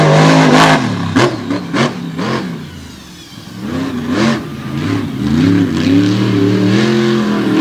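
A big Ford monster truck at a freestyle championship event revs its engine loudly in repeated surging bursts, close and dominant with no talk over it.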